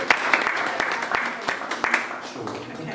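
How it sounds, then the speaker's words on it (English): Scattered applause from a small audience at a poetry event honoring the co-director, with irregular claps mixed with background chatter over three seconds. "Let's give her a round of applause."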